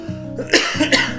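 A person coughs twice in quick succession, close and fairly loud, with a short throaty sound just before.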